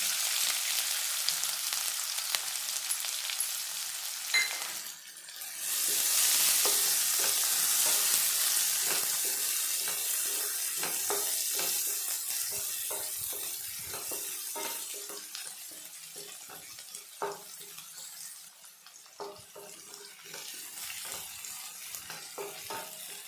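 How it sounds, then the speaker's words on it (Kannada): Finely chopped onion hits a hot pan and fries, a sudden loud burst of sizzling that settles into a long steady hiss with scattered crackles and occasional stirring clicks, heard close and alone. "ಈಗ ಒಂದು ಈರುಳ್ಳಿ ಸಣ್ಣದಾಗಿ ಕಟ್ ಮಾಡಿರೋದನ್ನು ಸೇರಿಸ್ತೀನಿ"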